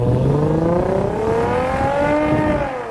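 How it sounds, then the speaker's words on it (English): A Lexus IS 350 V6 with F-Sport exhaust revs and pulls hard, a loud close engine note rising steadily in pitch as it accelerates, easing off at the end. "the V6 engine does sound pretty good with the F-Sport exhaust I have on it"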